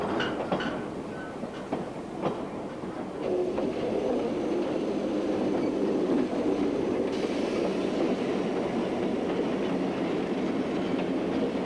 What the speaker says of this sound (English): Young and old alike enjoy the colorful trains as they journey around the museum.